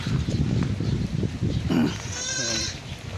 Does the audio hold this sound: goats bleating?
yes